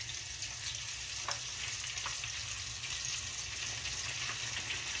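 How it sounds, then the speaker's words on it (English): Catfish pieces frying in hot oil in a round-bottomed cauldron, giving a steady, dense sizzle that runs unbroken throughout, with a few faint clicks of stirring. "let's fry up those pieces"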